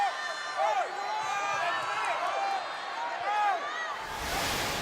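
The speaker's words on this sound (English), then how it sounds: "Crowd not happy with that non-call" Basketball crowd in a sports complex groaning and shouting in displeasure at a missed foul call, a dense, sustained roar of voices with whistles and rising calls, swelling near the end.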